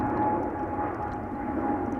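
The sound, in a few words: Boeing 777-300 airliner at Amsterdam Schiphol Airport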